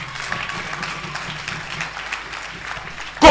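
A church congregation applauds to acclaim Jesus, filling the space with steady, dense clapping that swells into a sudden loud surge at the very end.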